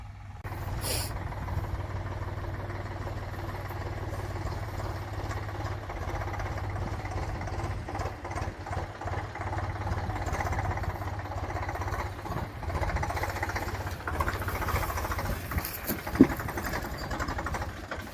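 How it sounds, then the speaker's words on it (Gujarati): An approaching tractor engine chugs steadily with a low rumbling drone and rattling, continuous throughout and fairly close, with no voices. "જો ટ્રેક્ટર આવે છે"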